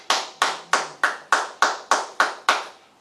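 Nine crisp, evenly spaced claps ring out in a church, a congregation clapping together in unison at a slow steady beat, each clap sharp with a short reverberant tail.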